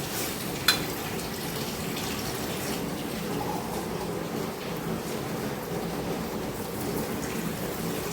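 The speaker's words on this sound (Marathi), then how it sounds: "आपण अजून एक ग्लास पाणी टाकतो" Water poured from a glass into a pan of fish curry, a soft continuous splashing and trickling wash that runs steadily for several seconds at moderate, close level, with no talking.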